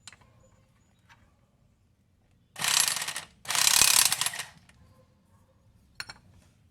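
A ball joint press tool being hand-cranked on a 2001–2005 Honda Civic during control arm replacement, two loud bursts of rapid ratchet clicking with a short pause between, then quiet with faint clicks.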